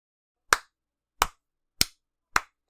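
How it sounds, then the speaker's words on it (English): One person claps slowly, four sharp, isolated claps against silence, the gaps shortening slightly so the tempo creeps upward. "I just went into a slow, just steadily increasing in tempo clap,"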